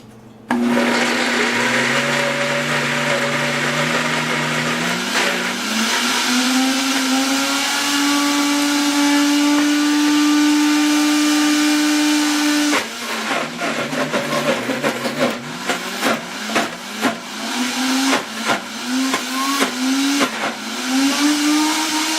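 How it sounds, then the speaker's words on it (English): A blender whirs loudly and steadily for about 13 seconds while mixing a raw vegan gluten-free cheesecake mixture, its motor pitch climbing as the blend smooths out, then pulses in short bursts toward the end. "And now we're going to blend it."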